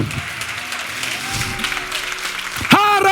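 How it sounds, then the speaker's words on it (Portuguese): A church congregation at a Portuguese-language service applauds with dense clapping under a loud, echoing voice, and a sharp burst near the end. "Vamos aplaudir a palavra que nos leva à vida eterna."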